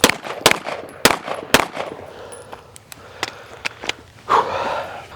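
A CZ Shadow 2 pistol fires during carry optics practice drills, sharp loud shots in an irregular string with pauses between them, followed by softer clicks and handling noises.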